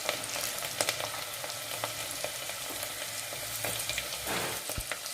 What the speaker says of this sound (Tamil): இப்போ நம்ம 10-20 பூண்டு சேர்த்துக்கலாம். அது நல்லா